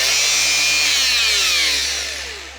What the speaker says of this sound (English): That's my Makita angle grinder.